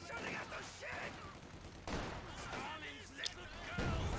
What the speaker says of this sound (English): The volley of the conscripts just deletes it.